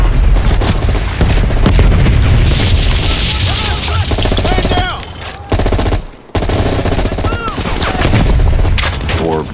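Rapid automatic M16 rifle fire in Call of Duty Black Ops Cold War campaign combat against a VC attack, dense bursts of shots and booms with shouted voices and a brief silent break.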